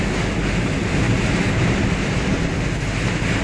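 Heavy rain blown sideways by strong wind makes a steady, loud, dense roar that fills the space without a break, with a gusty rumble underneath.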